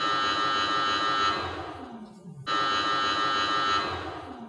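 A Rational combi oven buzzer signals that cooking is finished, two sustained loud electronic tones close by, the first fading away before a sharp restart, with a low hum underneath.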